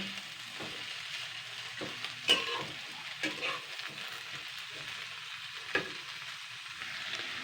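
Water spinach and potatoes fry lightly in a pan with a steady, soft sizzle, broken by occasional clinks and stirring scrapes.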